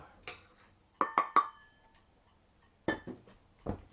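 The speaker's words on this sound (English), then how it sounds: "I tend to go over to a spoon, get the mixture off the fork, and add the flour" A metal spoon clinks against a fork and the rim of a bowl while cake mixture for a lemon drizzle cake is scraped off, a few sharp close taps in quick succession, then two more after a pause.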